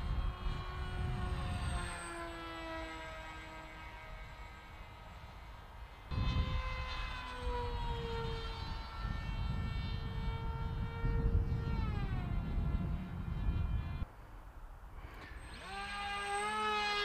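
A Nicesky F35 pusher RC model plane flying under power, its small electric motor giving a thin, high whine that rises and falls in pitch as it passes, fairly faint and distant, over outdoor background noise.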